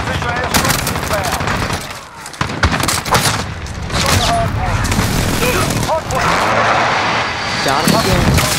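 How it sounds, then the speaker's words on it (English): Airstrike jets and explosions in the Modern Warfare video game, a dense roar of aircraft engines with rapid booming blasts and gunfire layered together, loud and continuous, with game voices calling out over the din. "Friendly position airstrike is inbound."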